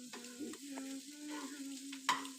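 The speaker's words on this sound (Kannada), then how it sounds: "ಎಲ್ಲ ಸೇರಿ ಈ ಥರ ಫ್ರೈ ಮಾಡಬೇಕು" Onions and green chillies sizzle softly in a pan, a faint, steady frying hiss with a few light stirring clicks and a sharper scrape near the end, no voices.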